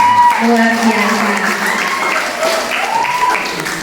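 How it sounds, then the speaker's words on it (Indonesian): Audience applause at a Dharma Wanita Persatuan meeting in Kotawaringin Barat, a steady clatter of hands under a loud voice speaking over a microphone. "Kita aplaus dulu buat semuanya."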